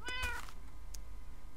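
A cat meows in the game Minecraft, one clear short meow near the start followed by a faint blip and quiet game ambience.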